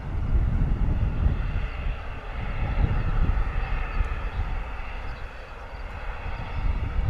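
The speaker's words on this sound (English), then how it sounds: "Beautiful EasyJet A320 turning onto taxiway Zulu 4, waiting to be given clearance to line up on runway 27." An EasyJet Airbus A320 taxis at Bristol Airport, turning onto a taxiway toward runway 27, giving a steady, moderately distant jet engine rumble with broadband roar that holds throughout and dips slightly midway, with no talking.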